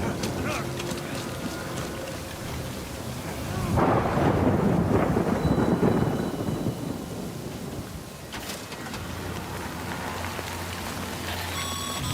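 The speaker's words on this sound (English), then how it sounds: "Good thing it was raining." Steady heavy rainfall in a video game about a courier, with a long rolling thunder rumble swelling in the middle and fading away, the downpour continuing throughout.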